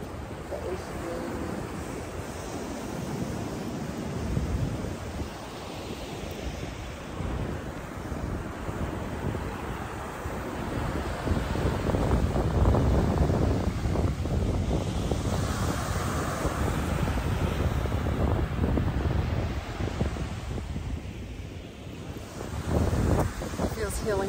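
Ocean waves and wind at Virginia Beach make a continuous roaring wash with heavy wind buffeting on the microphone, surging louder midway, while someone talks over it.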